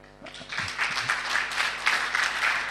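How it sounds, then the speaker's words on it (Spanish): A church congregation applauds its attendees, with dense crowd clapping that swells quickly and holds steady and loud throughout. "Un aplauso para los asistentes"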